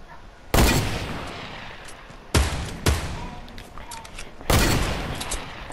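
Three loud sniper rifle shots in a first-person shooter video game, each a sharp close blast with a long echoing tail, spaced roughly two seconds apart.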